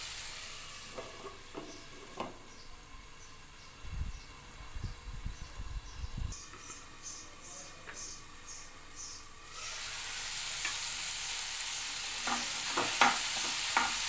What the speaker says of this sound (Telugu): ఒక 3 టమాటాలు వేసిన. కొంచెం సేపు మగ్గనివ్వాలి.